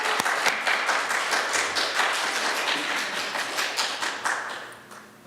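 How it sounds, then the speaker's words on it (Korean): A church congregation claps in encouragement as a member comes forward to share about discipleship training, a dense, steady round of applause from a roomful of people, loud and sustained before easing off at the end. "나오실 때 우리 격려의 박수 한번 쳐드릴까요?"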